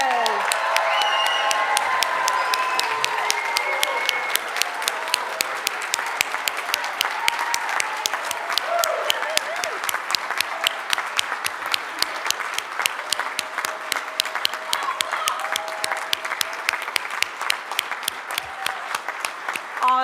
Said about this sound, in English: let's stand up and give them an ovation here